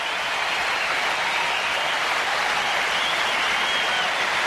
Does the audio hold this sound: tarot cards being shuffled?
no